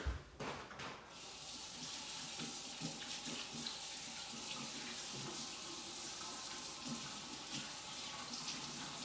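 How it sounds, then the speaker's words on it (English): A kitchen faucet runs steadily while hands are rinsed beneath it, a close, continuous rushing water hiss that starts abruptly and holds at an even level throughout. "Let me rinse my hands off really quick."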